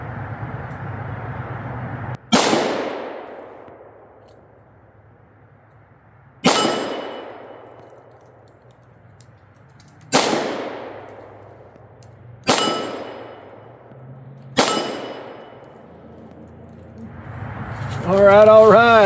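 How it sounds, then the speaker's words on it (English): Five .38 Special shots from a snub-nosed Ruger LCR revolver at an outdoor range, each sharp crack followed by a ringing clang from a small round steel gong, spaced a few seconds apart, with faint talk at the end. "Let's see if we can't ring some of that steel."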